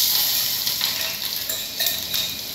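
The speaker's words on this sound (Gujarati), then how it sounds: "તો આ આપણે સંભારો વઘારી લીધો." Carrot and green chili sambharo tempered in hot oil with asafoetida, giving a steady, bright sizzle close by, with faint stirring clatter and no voices.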